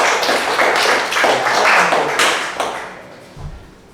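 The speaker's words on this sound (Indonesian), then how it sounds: "Ya, tepuk tangan untuk kelompok 3." Students in a classroom clapping for a group that just presented, a lively burst of close hand claps that fades out toward the end, followed by a couple of soft thumps.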